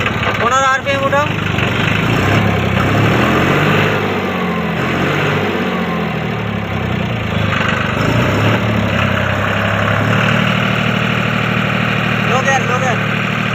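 A John Deere 5310 tractor engine idles steadily up close, a continuous loud diesel rumble running throughout with voices talking over it.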